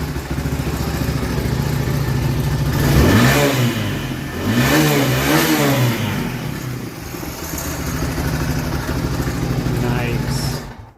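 A 1987 Suzuki SP 200 dual-sport motorcycle engine idles close by and rises through several throttle blips with sweeping pitch, holding a steady running drone between them, while people talk over it.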